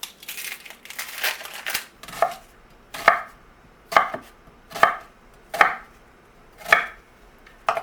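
A knife chops through an onion with a series of about seven crisp, evenly spaced cuts, each ending in a sharp tap on the board, following a stretch of busier, rustling cutting.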